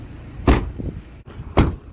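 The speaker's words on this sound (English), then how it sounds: "So here's door slam number 1." Two solid thumps of a 1989 Honda CRX Si's car door slamming shut, about a second apart, close and heavy, with no talking.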